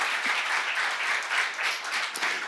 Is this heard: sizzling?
no